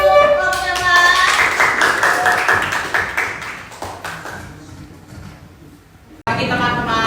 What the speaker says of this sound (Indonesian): kita tepuk tangan untuk kelompok Evan